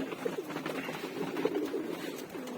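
Pigeons locked inside a loft coo softly and repeatedly, low rolling calls overlapping in a quiet, continuous murmur close by.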